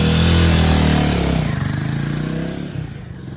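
Motorcycle on a road trip pulling away, a loud close engine rumble that revs and then fades slightly as it rides off, with no voices.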